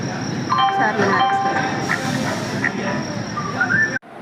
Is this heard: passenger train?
yes